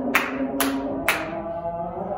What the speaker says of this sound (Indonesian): Ibu punya tepuk namanya tepuk berpola.